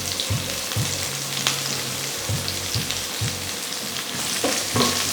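Shallots and onion sautéing in a pan while being stirred until browned, a steady close sizzle with repeated scraping strokes of the spoon.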